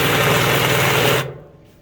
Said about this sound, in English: I'm drilling these small holes out